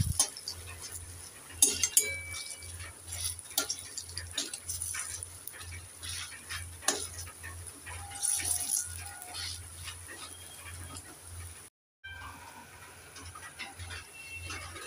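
Papaya fritters (kofta) are turned over in hot oil, with scattered metal clinks and scrapes from a utensil over a low, rhythmic background hum and a soft frying hiss.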